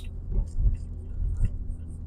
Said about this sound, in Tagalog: Ganda ng tunog ng kotse.